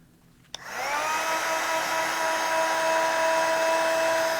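A crafting heat tool switched on to melt copper embossing powder: a click, then a close, steady whirring blow with a constant tonal whine that runs unbroken to the end.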